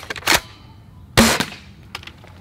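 A Game Face Trion dart blaster fires a couple of sharp, loud pops about a second apart, each with a short tail and faint mechanical clicks around them, close to the listener.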